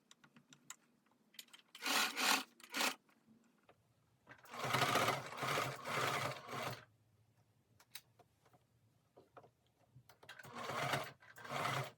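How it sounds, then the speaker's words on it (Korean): Sewing machine stitching along the seam allowance of a hooded dress, running in several separate bursts of varying length with quiet pauses and small handling clicks between them. "시접선을 따라서 재봉을 쭉 해줍니다."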